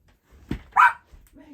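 A pet dog in a home lets out a single loud bark up close, preceded by a soft thump and followed by faint whimpering sounds in a quiet room.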